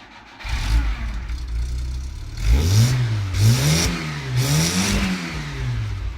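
A Skoda Favorit with an exhaust leak starts up and is revved, giving a loud mid-pitched engine that rises and falls through several blips before settling back, close by with no talk.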